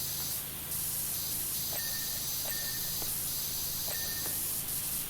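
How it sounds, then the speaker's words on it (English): A pressure washer sprays steadily at a door in the PowerWash Simulator video game, a constant loud hiss with faint beeping tones over it. "I'm just like spraying randomly at the door"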